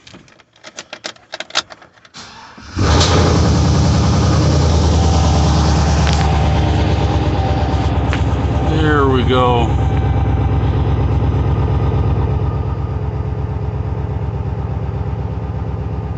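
A junkyard 6.0 LS V8 cranks with a rapid starter chatter, then catches and settles into a loud, steady idle close by with a ticking lifter clatter; someone speaks briefly over it.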